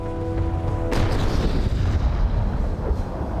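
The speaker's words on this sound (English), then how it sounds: "the long-barreled cannon known as the culverin, or snake" Culverin, a long-barreled cannon, firing in a naval battle: a heavy deep boom that breaks in suddenly after a faint sustained tone, then rolls on as a long rumbling wash of noise.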